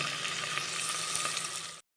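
Curry leaves and spices frying in a pan for a Goan masoor dal and mutton dish, a steady close crackling sizzle with bright spitting pops throughout, cutting out abruptly near the end before resuming briefly.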